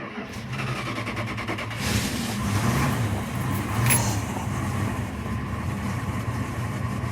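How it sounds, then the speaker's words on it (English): A 1972 Winnebago motorhome with a Dodge 440 engine runs steadily, a low, even idle rumble close by, with a slight swell partway through and no talk over it. "the engine's right here, so like if anything's going wrong, you're going to hear about it"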